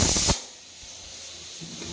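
Pressure cooker in a home kitchen, cooking idli sambar, lets out a loud, sharp burst of steam hiss that cuts off abruptly after a moment, leaving a quiet room.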